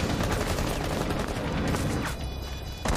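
Rapid automatic gunfire in the video game Rainbow Six, shots fired through a wall, a dense loud burst of repeated shots that thins out near the end, close and with no speech.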